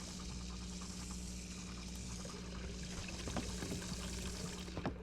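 Water pours and fills a container in the Hello Neighbor game, a faint, steady trickle over a low hum, with a few small clinks near the end.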